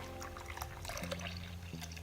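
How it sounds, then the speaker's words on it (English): Warm milk is poured into mashed potatoes in a crockpot, giving a faint, soft liquid trickle and gentle splashing that lasts a couple of seconds beneath a low background hum, with no one speaking. "you're going to take a cup of milk, warm milk, and you're going to pour it in there"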